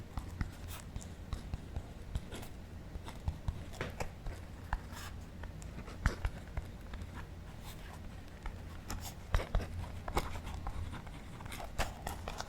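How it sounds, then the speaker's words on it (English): Pen or pencil writing on paper, close and quiet, with irregular scratchy strokes and taps spread over about twelve seconds and no talking. "I'm going to write something down about loneliness"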